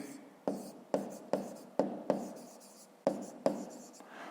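Numbers are written by hand for a math exercise, with a pen or pencil making short, crisp scratching strokes on paper, about eight separate taps and scrapes at an irregular pace, close up and alone.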